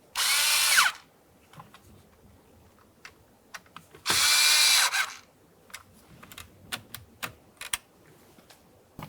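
A power driver whirs in two short, loud bursts as mounting bolts are snugged up during a combination switch replacement on a 2006-2012 Ford Fusion. Light clicks and handling taps follow between and after the bursts.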